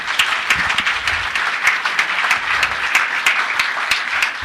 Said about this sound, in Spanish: Otro aplauso para Juan.